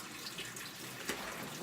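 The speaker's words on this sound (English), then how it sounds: "I definitely always rinse off my meat" Running tap water rinsing raw steak in a sink, a steady close splashing flow with a voice faintly over it.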